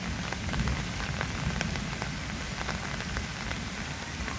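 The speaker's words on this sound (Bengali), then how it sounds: "কিন্তু কালকে থেকে এত বৃষ্টি, এই পরিমাণ বৃষ্টির কারণে" Heavy rain during a flood drums steadily on surfaces nearby, a dense low roar with faint scattered drip ticks throughout and no talking.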